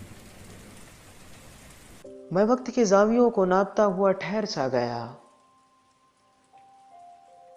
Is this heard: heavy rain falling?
yes